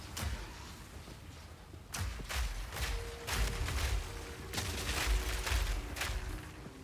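Crossbow bolts in Path of Exile 2 set off large explosions in rapid bursts, a series of sharp booms and crackling blasts clustering loudly over game action, without talk.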